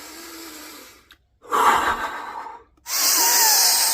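A woman draws a deep breath close to the microphone, a soft airy inhale followed after a short pause by a longer, louder rushing exhale, with no words spoken.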